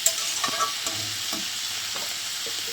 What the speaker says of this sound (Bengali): সব সবজিগুলো আমি একসাথে ভালোভাবে ভেজে নেব।